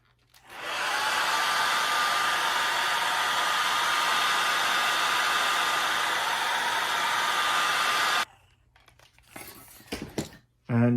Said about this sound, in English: And if you need to, use a hairdryer.